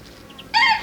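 A chicken gives a short, loud cluck-like call near a barn attic where it keeps climbing down, after a quiet moment, with no talk.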